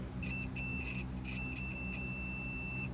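A multimeter set to continuity beeps while testing wiring in a 1965 Nova's dash. Several short high-pitched beeps come first, then one steady tone holds for over a second, clear and close over a quiet background hum.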